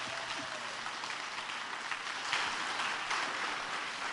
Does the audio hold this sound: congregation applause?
yes